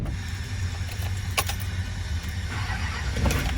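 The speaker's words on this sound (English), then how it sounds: "Truck fired right up." A Duramax diesel truck starts outdoors at a mega truck bounty hole event, with a sharp crank followed by a steady, close engine rumble and faint mechanical rattles throughout.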